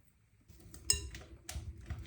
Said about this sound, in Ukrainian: Вливаємо сюди розтоплений шоколад і все перемішуємо.